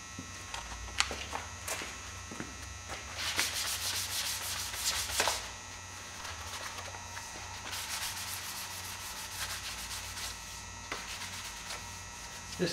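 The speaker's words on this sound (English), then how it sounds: "is just sand this a little bit with 400 grit" Fresh paint on a custom truck back rack is lightly hand sanded with 400 grit sandpaper, giving repeated soft scratchy rubbing strokes in bursts, close and fairly quiet over a steady electrical hum.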